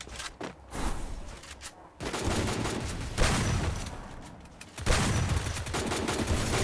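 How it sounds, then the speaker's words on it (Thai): Rapid bursts of gunfire in the video game Free Fire, loud and dense, in three sustained volleys with short gaps between them, with no voices over them. "ยิงอะไรยิงไม่โดนเลย"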